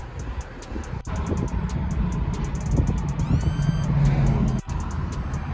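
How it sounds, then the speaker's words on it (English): A convertible driving with its top down makes a steady, loud rumble of engine, road and wind, with a series of faint high electronic beeps above it and a couple of brief dropouts. "We are driving in the drop top"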